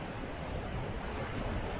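Sea surf rolling in steadily on Hedavi beach near Guhagar, a continuous broadband wash of waves with some wind rumble, no voices.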